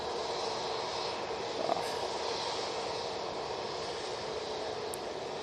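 Airliner jet engines whine and roar at Manchester Airport, a steady mid-distance drone with a high hiss, and a brief louder swell partway through.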